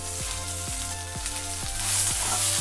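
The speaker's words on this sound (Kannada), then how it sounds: "ಆಮೇಲೆ ಇದಕ್ಕೆ ಈ ಮೆಣಸಿನ್ಕಾಯಿ ಹಾಕ್ತಾಯಿದ್ದೀನಿ." Chillies and curry leaves frying in oil for Dharmastala-style sambar, a continuous crackling sizzle under a repeating low rhythmic hum, rising slightly in hiss toward the end.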